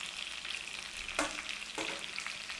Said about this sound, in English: All we're doing now is putting a sear all around that pork.